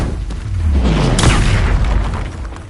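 A Bombarda spell going off in the video game Hogwarts Legacy sends out a deep, loud booming explosion that swells and rumbles for a couple of seconds.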